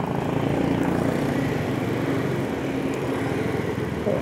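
A steady, loud engine drone fills the air on a road in Chennai, heard from a moving motorbike as a vehicle approaches, with constant wind and motor noise throughout.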